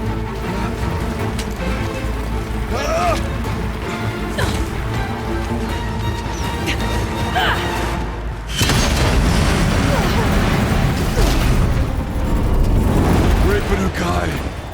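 Explosive ammo detonations boom in Horizon Zero Dawn combat, repeated heavy crashes and rumbles, with a big blast around the midpoint and continued loud impacts beneath game chatter.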